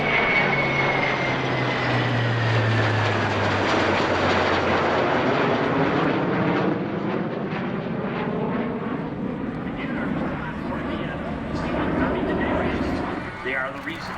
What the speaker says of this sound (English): The US Navy are up next with an MC-130J Hercules leading a pair of EA-18G Growlers.